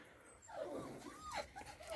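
Puppies whimper in a few short, rising-and-falling whines at close range, with faint background noise between the cries.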